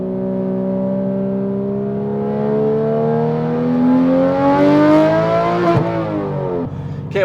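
A Porsche 991.1 GT3 RS with its 4-liter flat-six revs hard toward 9,000 RPM, the close, loud wail climbing steadily in pitch for several seconds before a sharp gear change and a brief drop.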